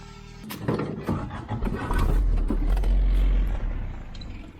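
A pink Willys MB Jeep drives past with a rising, rumbling engine roar that builds and holds loud and close before easing off, mixed with rough outdoor rustle and no talking.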